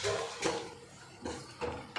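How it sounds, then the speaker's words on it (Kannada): Raisins and cashews are stirred in ghee in a pan while making gasagase payasa, giving a few scraping clinks of a spoon against metal with quiet gaps between them. "ನಿಧಾನವಾಗಿ ಆ ತುಪ್ಪದಲ್ಲಿ ದ್ರಾಕ್ಷಿ ಮತ್ತು ಗೋಡಂಬಿಯನ್ನು ಮಿಶ್ರಣ ಮಾಡ್ಕೊಳ್ಳಿ"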